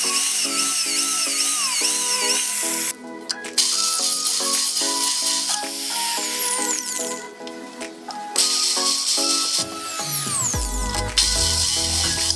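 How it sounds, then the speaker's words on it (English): A drill bores holes with a 10 mm bit through 1-inch galvanized pipe with a 2.5 mm wall, loud whining and grinding with pitch shifts, brief pauses and a rattling finish. "drill 2 holes using a 10 mm drill bit"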